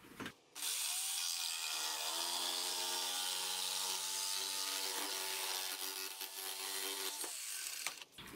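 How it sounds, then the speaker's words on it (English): A jigsaw fitted with a fine-tooth metal-cutting blade cuts through a Kydex sheet for a knife sheath, producing a loud, steady high buzzing rasp close by for about seven seconds with no talking. "Cutting this stuff is kind of tricky, so I like using a jigsaw with a real fine-tooth blade that you'd use for metal."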